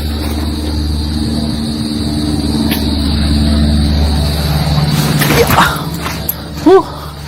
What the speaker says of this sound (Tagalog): Palipad tayo ng drone para makita natin yung kagandahan nitong lugar.